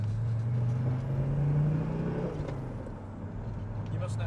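Mercedes diesel car engine idling and running with a steady low drone and rising harmonic whine, continuous throughout, with people talking over it.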